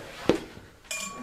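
Glasses clink together in a toast, one sharp close clink followed by a fainter ringing touch, with quiet room sound around them.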